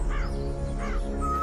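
Two harsh crow caws, one near the start and one midway, sound clearly over a steady background in a Hindi children's story about a magical boon.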